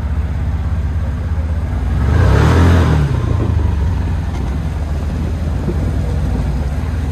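Can-Am Commander XMR 1000R side-by-side engine running fairly quietly: a steady low hum that swells into a brief rev midway, then settles back to an even drone.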